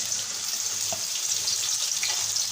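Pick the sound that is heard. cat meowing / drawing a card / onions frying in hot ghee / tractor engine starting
onions frying in hot ghee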